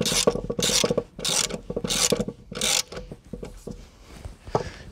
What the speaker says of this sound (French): on peut venir prendre le cliquet et commencer à compresser le ressort